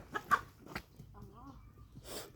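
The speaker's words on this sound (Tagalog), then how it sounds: "Yan, mga manok, guys." A few short clucks from chickens close by, interspersed with soft bird calls and faint background noise.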